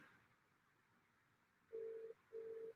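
A telephone call rings out on the line: two steady, even ringback tones sound one after the other over a faint quiet background.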